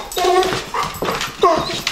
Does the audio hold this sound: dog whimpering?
yes